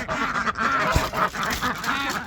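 Farmyard ducks quack in rapid, overlapping bursts close by, a noisy run of repeated calls with a faint thump partway through.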